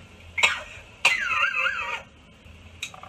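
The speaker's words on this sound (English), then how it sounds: "I was coughing, girl." A person coughs in a few sharp, close bursts, with a throat-clearing rasp between them and no talking.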